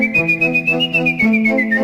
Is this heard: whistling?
yes